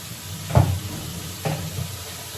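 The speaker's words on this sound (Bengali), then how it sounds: "এই যে মশলাটা কষিয়ে নিচ্ছি সুন্দর করে" Masala being fried and stirred in a pan, a soft steady sizzle with two distinct scraping stirs, the first louder than the second, close up and with no talking.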